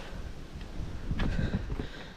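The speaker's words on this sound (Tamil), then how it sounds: "செம்ம காற்று" Strong wind roaring across the microphone at the top of a lighthouse at Kodiyakarai, a continuous loud buffeting rumble with gusts that swell and ease throughout, no talking.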